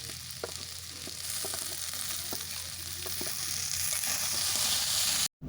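Fried brinjal sautéing with gima greens in a pan, a steady close sizzle with occasional sharp spatula scrapes and clicks, continuous until a brief cutoff near the end; no voices.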